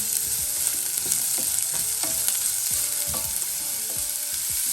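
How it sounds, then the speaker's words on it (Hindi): Chopped onions, about 100 grams, sauté in a tablespoon of hot oil, giving a continuous close sizzle with soft scraping stirs throughout and no talking. "ऑयल गर्म हो गया। इसमें ऐड करेंगे 100 ग्राम प्याज चॉप की हुई। इसको हल्का सा सौते कर लेंगे।"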